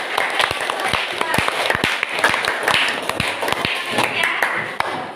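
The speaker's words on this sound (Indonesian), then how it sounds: "Nah, kita kasih tepuk tangan." A group of students claps in a classroom, a steady patter of close, sharp hand claps with some louder individual strikes, mixed with background voices and chatter throughout.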